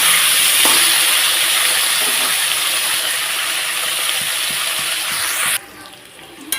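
Onion and potato frying lightly in a pan over low gas, a loud steady hissing sizzle that drops abruptly to a much quieter crackle near the end.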